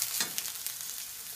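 Cajun-rubbed pork chops, freshly flipped to their second side, sear in a hot pan with a steady, close hiss and a brief burst of crackle near the start, no voices.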